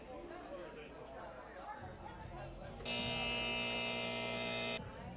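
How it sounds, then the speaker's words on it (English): A loud, steady electronic beep from a dartboard machine at a live darts event sounds continuously for about two seconds, with crowd chatter and hubbub before and around it. "There's that annoying little beep."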